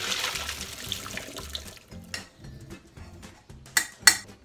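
Potato cooking water tipped from a pan for mashing, heard as splashing sink-like pours with a couple of clinks of metal pots, close and moderately loud, no talking.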